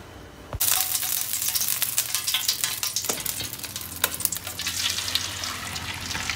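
Rolled-out gözleme dough meets a hot sac griddle on the stove, bursting into a sudden loud sizzle that keeps crackling and hissing steadily afterward.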